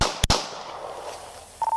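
A single sharp gunshot-like crack rings out in a recording made by investigators, a loud close report followed by a decaying echo, then a brief tone near the end.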